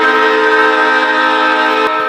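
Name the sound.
Leslie RS3L train horn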